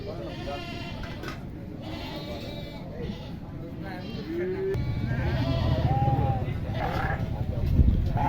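Sheep bleat at a livestock market, several calls rising over a noisy crowded background with people talking, the bleats wavering and overlapping at close to middle distance.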